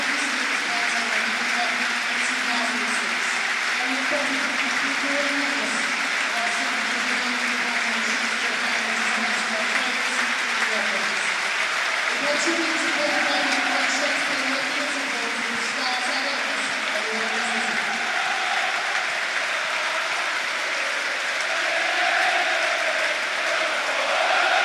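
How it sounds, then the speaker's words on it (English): Steady broad applause from a football crowd at West Brom's home ground during West Brom v Leeds United, continuous and dense throughout, with a public-address voice speaking over the clapping. "The applause begins even as the words are still being spoken over the PA system."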